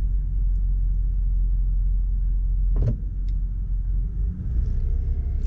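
A long queue of cars on the road gives off a steady, low engine and tyre rumble close by, with a brief sharper clunk partway through and no speech.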